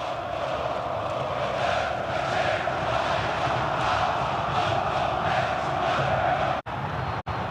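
Corinthians supporters cheering at Pacaembu stadium during a Copa do Brasil match with their team up 2–0: a dense, steady roar of a large crowd filling the air, continuous and loud, with two brief dropouts near the end.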